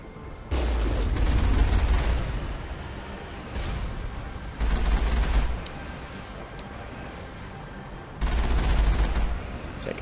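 Turret gunfire in Mass Effect arrives in three heavy booming bursts, each lasting about a second, separated by quieter gaps, loud and close with a deep low rumble.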